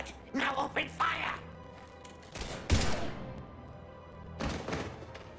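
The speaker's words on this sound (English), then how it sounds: "Now open fire!" Bursts of gunfire in the Mass Effect game: sharp, thumping shots clustered in a few volleys with quiet gaps between, fairly close, with faint voices underneath.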